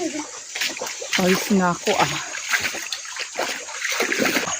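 Water splashes and sloshes as hikers wade through a mountain stream on a slippery, rain-soaked trail, with several bursts of splashing close by and people talking over it.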